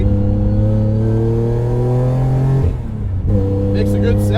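A 700 HP supercharged Acura TL holds a loud, steady engine drone on track, then briefly drops off as the driver shifts before the revs pick back up, heard from inside the car.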